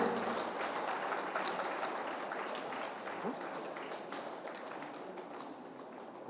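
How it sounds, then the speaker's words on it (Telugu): Sustained audience clapping at a Patriji Pyramid spiritual anniversary event in Vizag, a dense steady patter from many hands that fades slightly toward the end. "Big claps."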